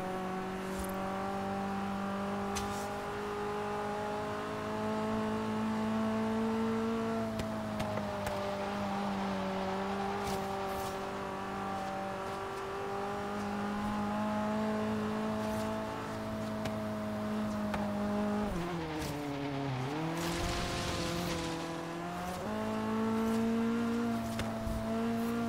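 An engine drones steadily as a car drives uphill in the Forza Horizon racing game, its pitch rising and falling with revs and dipping briefly mid-run before climbing again, with no talk.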